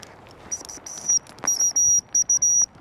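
A dog training whistle blown outdoors in a series of short, shrill, high blasts, a few quick toots followed by longer held notes over faint background noise.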